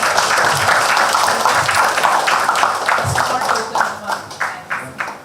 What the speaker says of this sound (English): can we have a good round of applause, please?